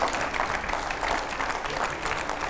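Studio audience applauding to welcome a guest onto a televised Hindi panel debate, a brief burst of dense, steady clapping from a crowd at moderate volume.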